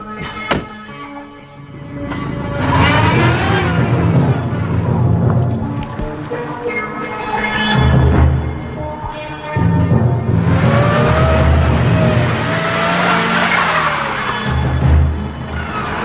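A car moving off and driving away in an Indonesian TV drama scene, its engine rumbling loud and close for long stretches with brief dips, mixed with background music.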